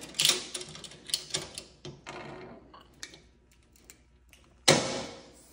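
Latches on a portable suitcase solar panel being handled and snapped shut, a string of small clicks and clacks close by, ending in one louder snap.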